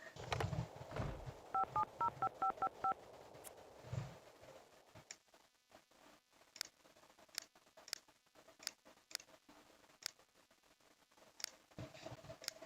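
A telephone keypad dialed in a quick run of beeping tones, followed by a long stretch of sparse clicking ticks, fairly quiet with no talk.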